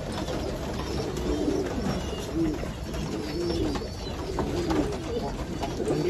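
Pigeons coo repeatedly in low, rolling phrases, with several birds overlapping at moderate distance against a steady background hum.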